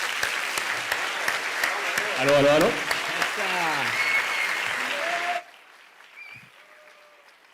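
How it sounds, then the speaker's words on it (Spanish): A crowd claps steadily for a speaker at a science talk in Chile, with someone speaking over the applause before it cuts off abruptly into near-silence with faint voice traces. "vamos con un aplauso a Leo Chavarría"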